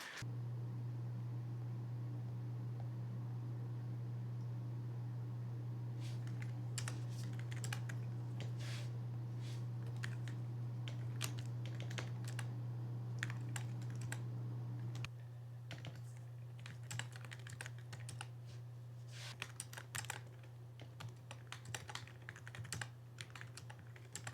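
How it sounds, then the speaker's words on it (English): Steady typing on a computer keyboard, rapid irregular clicks in bursts over a constant low hum, close by and alone, with no talking. "I have been typing away like a madman"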